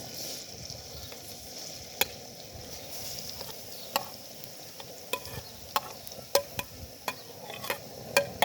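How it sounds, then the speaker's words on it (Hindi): Grated bottle gourd cooks in ghee with a soft, steady sizzle and frying hiss, punctuated by intermittent sharp ticks and stirring clinks that grow more frequent in the second half. "लौकी को हम तकरीबन 7-8 मिनट घी में पकाएंगे।"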